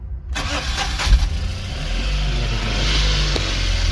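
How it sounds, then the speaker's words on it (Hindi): A Tata Nano CNG car engine cranks and catches, then runs roughly at close range and loud, with uneven revving and sputters as it struggles after starting. "ये देखिए गाइस, गाड़ी स्टार्ट हुई है और जैसा एक्सेलेरेटर कर रहे हैं वैसा बंद हो रही है।"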